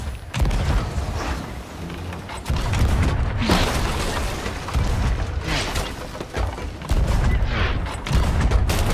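Ship cannons in the pirate video game Sea of Thieves fire several heavy booms at another ship, landing at uneven intervals over a constant rumble of sea and wind.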